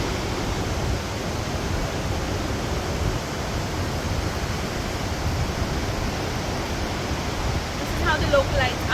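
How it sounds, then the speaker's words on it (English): Steady broadband rush of a waterfall amid lush greenery in West Sikkim's Kanchenjunga National Park, continuous and fairly loud, with a faint brief sound near the end. "we have beautiful waterfalls amidst the lush greenery"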